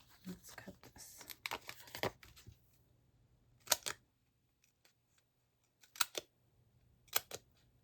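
Scissors cutting card stock for a Simple Stories Say Cheese Classic Pooh card kit: rustling paper handling at first, then three separate crisp snips spaced a couple of seconds apart in a quiet room.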